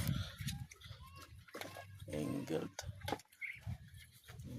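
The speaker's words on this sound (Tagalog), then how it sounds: "Ayun yung andun yung kambing. Dalawang kambing guys." Two goats bleat a few times among small-farm farmyard noise while a person talks over them.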